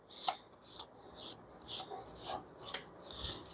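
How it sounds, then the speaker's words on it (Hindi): Tarot cards being shuffled by hand, with a series of soft riffling, rubbing bursts at an uneven rhythm, close and quiet. "ये मुझे ऐसे शफल करना पड़ता है क्योंकि ये कार्ड स्टिक हो जाते हैं"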